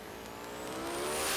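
A drag race car makes its first-round elimination run at Lucas Oil Raceway during the NMCA Indy event, its engine note rising steadily in pitch and volume as it accelerates, heard from a distance.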